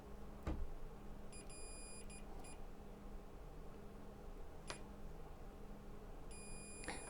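A multimeter in continuity mode beeps while probing transformer center tap wires, with a few short high electronic beeps in brief clusters over a faint steady background hum, punctuated by small probe clicks.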